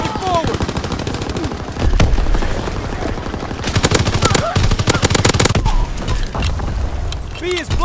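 Heavy gunfire in a battle scene: rapid machine-gun bursts and single shots crackle loudly and near, with brief pauses, metallic mechanical clatter, and a few shouted voices over the firing.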